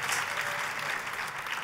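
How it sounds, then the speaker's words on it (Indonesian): Church congregation applause, a steady, even roar of many hands clapping together that holds at one level for under two seconds. "Tepuk tangannya yang paling meriah buat Tuhan kita."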